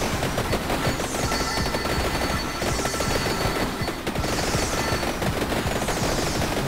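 Rapid fire-weapon explosions in the video game Vampire Survivors during co-op play, a dense, continuous crackling barrage like gunfire that stays loud and unbroken throughout.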